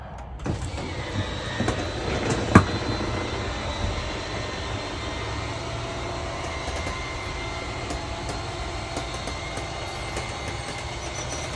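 Lippert Schwintek RV slide-out motors run as a steady electric whine with a low mechanical hum, continuous and fairly close, after a brief click near the start.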